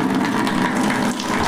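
Water runs steadily into a bucket, a loud, continuous rushing and churning noise close by, with no talking.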